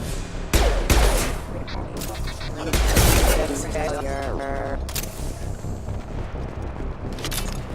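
Loud gunfire and booming blasts in the video game Mass Effect 2, with sharp bursts and heavy impacts in irregular clusters, while electronic tones and combat voices sound over the noise.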